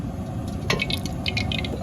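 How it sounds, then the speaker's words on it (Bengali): White cooking oil goes into a hot kadai for mutton rogan josh, giving a close, wet splashing pour with scattered light crackles and spits as it hits the hot metal. "এটা কড়াই গরম হয়ে গেছে, তেল দিয়ে দিচ্ছি, সাদা তেল দিচ্ছি,"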